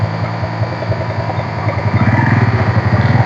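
A motorcycle pulls up on a muddy riverside track, its engine rumbling steadily and growing louder and more pulsing toward the end as it comes near.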